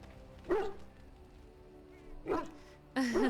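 A dog companion in the fantasy role-playing video game Dragon Age: Origins gives three short barks and yips, spaced over a few seconds and fairly close and clear against quiet game ambience.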